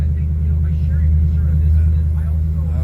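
A direct-drive motor on a 27 ft fishing boat runs in gear, giving a steady, loud low rumble throughout with faint higher tones above and no break in the drone.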